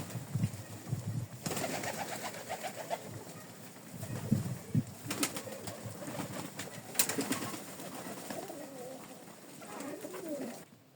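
Pigeons and young squabs in a loft coo steadily in soft, overlapping throaty calls at close range, with a few wing flutters and a windy outdoor background.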